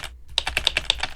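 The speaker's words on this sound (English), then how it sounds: "retro keyboard typing sound for the cyberpunk theme" A retro keyboard typing sound effect from a cyberpunk-themed writing app: about nine crisp, evenly spaced keystrokes in a quick, steady rhythm. They are close and prominent, with no voices.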